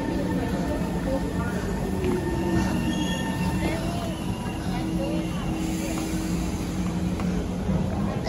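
A train rolls along with a low rumble and faint, thin squeals from the wheels, steady and moderately close, with some voices mixed in.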